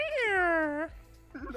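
A person imitates a cat with one long, drawn-out, high-pitched meow sliding downward, followed by a short spoken bit of voice.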